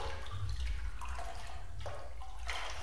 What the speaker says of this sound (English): Splishy splash. At least I'll hear anyone who's coming.